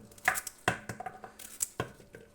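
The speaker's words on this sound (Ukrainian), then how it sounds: "І перерізаємо огірочки, нарізаємо." A knife slices cucumbers into rounds about a centimetre thick for a salad, giving about a dozen crisp, close chopping taps in a quick, uneven rhythm on a board.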